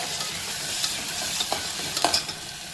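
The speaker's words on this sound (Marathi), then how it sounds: "आता टाकते मी कांदा आणि कांदा छान परतून घ्यायचा गोल्डन ब्राऊन होईपर्यंत" Onion frying in hot oil until golden brown for a dry mutton dish, a steady close sizzle broken by occasional stirring scrapes, with no voices.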